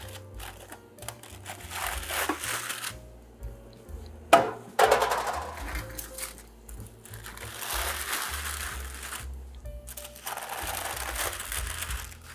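Baked pumpkin cookies slide and scrape off parchment paper on a metal cookie sheet, a few soft scuffs and one sharp clatter in the middle, fairly quiet and close.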